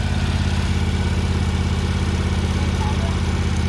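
The flathead six in an AMC Rambler runs at a steady, loud, throbbing idle close by. The rhythm barely changes as throttle is added.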